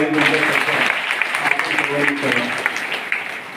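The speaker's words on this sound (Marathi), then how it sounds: "तर यांच्यासाठी जोरदार टाळ्या" Crowd clapping at a village gathering in Kuldharan, Karjat taluka, honoring a maker of cookstoves; dense, steady applause sustained throughout, fairly close, with a murmur of voices underneath.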